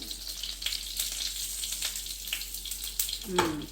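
Thai acacia omelette frying in a pan, a faint steady sizzle of oil throughout with a soft scrape near the end.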